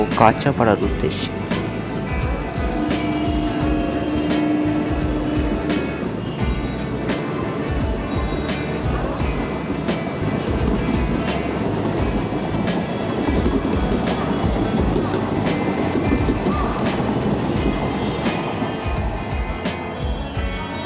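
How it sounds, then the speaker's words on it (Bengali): An AC electric local train rumbles steadily departing Naihati station, a constant broadband roar and faint rattling, with a brief tonal whine early on; it holds level throughout without clear acceleration. "এবার এসি লোকাল রওনা হচ্ছে নৈহাটি ছেড়ে"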